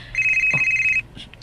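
A cellphone rings during a drama scene with a steady, bright electronic tone that lasts about a second, then cuts off and leaves quiet room sound.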